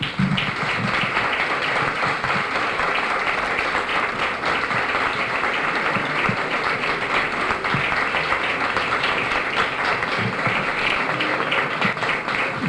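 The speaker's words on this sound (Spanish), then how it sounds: "Un aplauso para Flores Blázquez." Sustained audience applause for Flores Blázquez at a bullfighting discussion evening in Hellín, a full room clapping steadily and fairly close for the whole stretch, with no voices over it.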